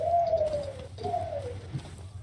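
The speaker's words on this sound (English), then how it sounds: "each time you fail, you can hear that fucking bird scream" A bird in the video game Final Fantasy XV gives two descending, drawn-out cries, loud and clear over a low steady hum.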